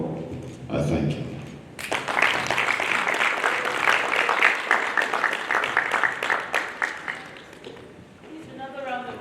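An audience breaks into loud, sustained applause after a voice at the start, clapping steadily for several seconds before tapering off.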